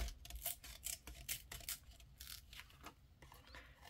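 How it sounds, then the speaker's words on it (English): Scissors poke into and tear at foam tape during card making, producing a series of close, crisp scraping and ripping bursts in an irregular rhythm, with no talking. "Going to poke in with my scissors here. And then going to try to"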